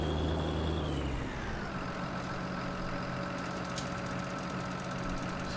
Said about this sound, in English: It's a very heavy plough for this tractor.